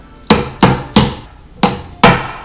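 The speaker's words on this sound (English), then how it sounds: "What do I have laying around here? Hammer." A hammer strikes a homemade DIY cheese press five times in an uneven rhythm, each hit sharp and close.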